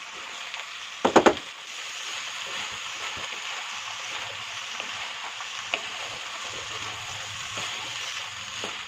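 Mixed vegetables for khichuri stirred and frying in a pot, a loud clatter of the utensil at first, then a steady hissing sizzle with occasional light scrapes, close and without voices.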